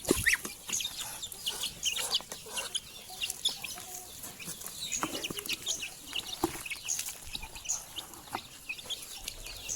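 Many chickens and ducks cluck and peck together in a busy, continuous chatter over cheap bran feed, with scattered clicks and rustles and no voices.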